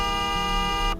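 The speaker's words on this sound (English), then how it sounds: "Here's the horn." A car horn in the Roblox game Greenville sounds as one steady, buzzy electronic blare lasting about a second, then cuts off abruptly.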